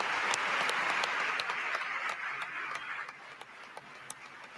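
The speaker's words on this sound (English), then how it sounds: "Clap for this, Democrats." Applause from lawmakers in the chamber of Congress, a dense, steady wash of many hands clapping that thins slightly toward the end with a few sharper individual claps standing out.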